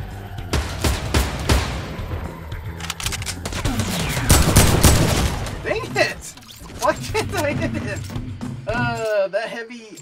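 Heavy rifle fire in Fortnite rattles out in loud, rapid bursts, heavy at the start and again around the middle, with a player talking over the shooting.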